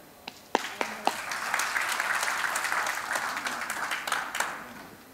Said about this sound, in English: Let's clap, Kevin.